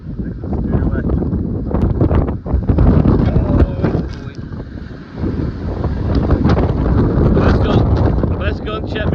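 Strong 40 mph gusts batter the microphone on a north Wales shore during bass fishing, a loud, rumbling buffeting that swells and dips continuously, with voices partly buried in the roar.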